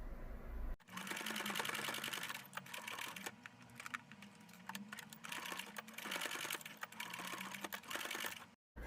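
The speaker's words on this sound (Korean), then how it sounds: "끈 연결해서 박음질 마무리 하도록 하겠습니다." A sewing machine stitches the strap onto a fabric sun hat in a continuous close run of fast, rhythmic mechanical clatter, with a few brief pauses and hand-stop noises.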